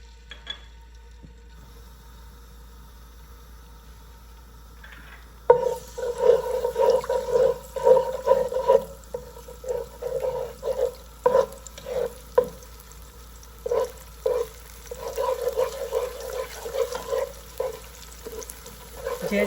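An egg hits hot oil in a pan while fried rice is being made: quiet at first, then a sudden sizzle with crackling bursts and scraping stirs that come and go.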